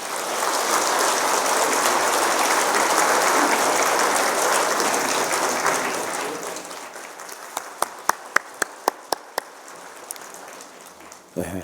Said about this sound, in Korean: 우리 뜨거운 박수로 축하하도록 하겠습니다